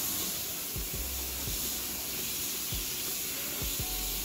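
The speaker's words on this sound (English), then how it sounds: "I'm going to rinse my shampoo out of my head" Water spraying steadily from a shower as shampoo is rinsed out of 4A-B textured hair, a constant close hiss with a few soft low thumps, no talking.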